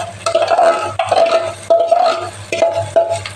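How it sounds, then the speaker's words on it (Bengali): Mashed potato is pressed and mixed in a pan for a potato filling, heard as close, repeated scraping strokes with a short rhythmic pattern of stirring and dull knocks against the pan. "এই যে ম্যাশ করা আলুটা আমি দিয়ে দিচ্ছি এর মধ্যে।"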